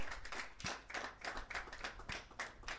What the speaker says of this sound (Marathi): टाळ्यांचा जरा जोरदार आवाज होऊन जाऊ द्या.